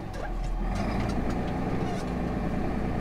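A farm tractor engine runs at a steady idle, a close, continuous low rumble with an even drone and no break across the whole stretch.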